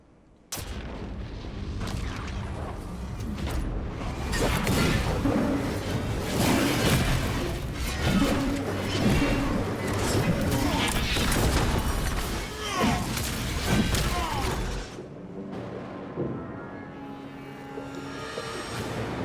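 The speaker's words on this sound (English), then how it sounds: "We'll take the shock grenades." Shock grenades going off during a Warhammer 40,000 Black Templar Bulwark match, a dense run of loud booms, crashes and shattering bursts over about fourteen seconds before the action quiets.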